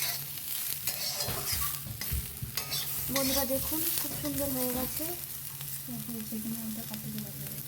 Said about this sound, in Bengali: আলু ভাজাটা হয়ে গেছে এবার তুলে নেওয়া হবে